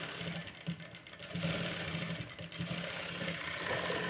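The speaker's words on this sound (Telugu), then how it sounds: "ఇంక ఇలా కొంచెం ఓపిక్గా స్టిచ్చింగ్ అనేది చేసేద్దాం" A sewing machine stitches neck piping with a quiet, steady, rapid mechanical whir and tapping, heard alone and close.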